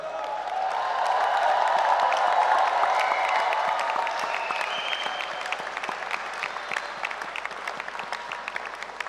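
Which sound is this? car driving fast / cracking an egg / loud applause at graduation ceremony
loud applause at graduation ceremony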